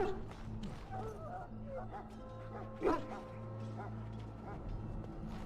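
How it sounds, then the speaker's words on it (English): Hounds bark and yip in Dragon Age: Origins, several dogs giving repeated barks and whimpers close by, while a character talks over them. "I must get the hounds ready for battle. Half the dogs are sick from Darkspawn blood."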